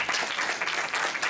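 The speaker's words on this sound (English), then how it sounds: "Please join me in welcoming Mr. Karthikeyan Srinivasan on the dais with a loud applause." Audience applause welcomes a lecturer to the dais at a memorial lecture, a steady wash of clapping from a moderate-sized crowd, fairly quiet and unbroken throughout.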